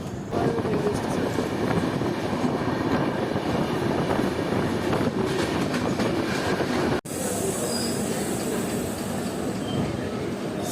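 Uttarbanga Express pulling out of platform 2 at Pakur station, heard from a general coach: steady loud rumble of wheels on rails with clickety-clack and squealing, a brief dropout near the end, then continued rolling noise.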